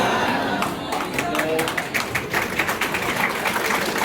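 Students in a school gathering for World Diabetes Day applaud steadily in a dense patter of claps, moderately loud, with voices mixed in under it.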